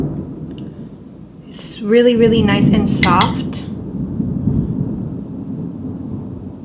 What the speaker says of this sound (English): I don't know if you hear the thunder.